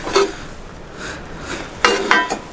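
Heavy cast iron stove being moved in a junkyard, giving a few sharp metallic clanks and knocks, with the two loudest strikes close together near the end amid quiet outdoor background.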